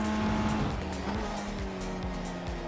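A race car in iRacing runs a qualifying lap at the Navarra circuit, its engine droning steadily with pitch sweeps as it shifts and brakes, alone and fairly close.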